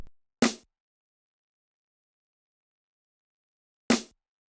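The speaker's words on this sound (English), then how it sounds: "Then I added this snare out of Venexia Takeover 2." Snare sample from the Venexia Takeover 2 kit, two dry, crisp snare hits spaced several seconds apart in silence, each short and punchy with a quick noisy decay, nothing else audible.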